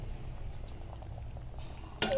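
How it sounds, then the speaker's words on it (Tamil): Amaranth greens bubbling in a pot of water for a tangy Tamil-style greens dish, a soft steady low simmer throughout with a brief louder clatter near the end, no talking. "பார்த்திங்களா, கீரை கொதிச்சுட்டுருக்கா, அதில் இதை சேர்த்துக்கலாம்."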